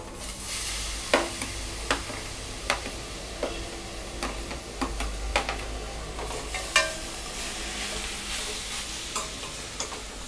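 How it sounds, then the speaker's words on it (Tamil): Beetroot sautéing in a pan for beetroot rice, a steady low sizzle with spoon scrapes and taps against the pan every second or so, close and fairly quiet with no talking. "இப்போ நம்ம பீட்ரூட் போட்டு நல்லா வதக்கிக்கலாம்"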